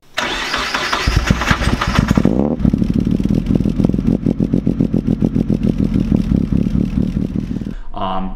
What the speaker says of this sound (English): you hear a very lumpy idle.